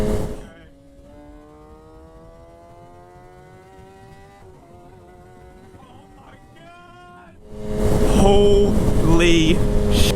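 A 2017 Kawasaki ZX10R sport bike in full power mode pulls hard with a steady rising engine whine, then a sudden loud roaring surge takes over at the end.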